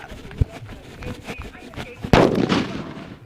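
A sharp bang early on, then a louder burst of crackling explosions from a one-kilo paper firecracker that rumbles and fades, heard over background noise.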